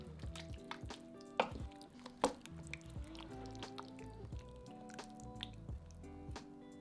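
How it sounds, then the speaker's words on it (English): Beef stirred into curry sauce in a slow cooker makes soft wet squelches and drips, with a few louder squishy spoon knocks early on and quieter sloppy stirring after, close and faint. "Then stir it all together to combine the beef with the sauce."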